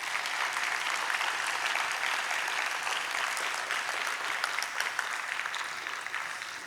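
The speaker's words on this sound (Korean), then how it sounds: "박수 한번 쳐주세요." A congregation applauds during a Sunday afternoon church service, a dense, steady clapping from many hands that fills the room and tapers slightly at the end.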